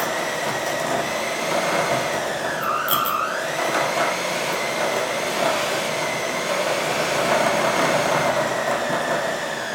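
An electric hand mixer beats cupcake batter in a home kitchen, a steady close whirring drone that holds for the whole stretch with a brief pitch dip partway through.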